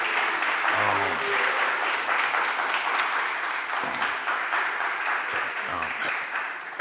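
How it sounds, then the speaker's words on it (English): A crowd applauding steadily at a Philadelphia City Council meeting, dense clapping at a constant level with a voice briefly heard over it. "could we give the staff of City Council a round of applause"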